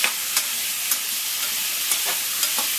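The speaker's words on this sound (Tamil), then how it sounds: "கொஞ்சம் கொஞ்சமாக போட்டு வதக்க வதக்க எல்லா காயும் வதங்கிடும்" Vegetables with coconut sautéing for aviyal, giving a loud, steady hiss of frying with faint periodic stirring scrapes, close up and with no talk.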